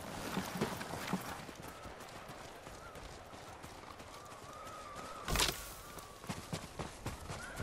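Horse hooves clip-clopping in the samurai video game Ghost of Tsushima, steady walking beats on the ground with rustling around them and a brief loud thump midway, fairly close and alone.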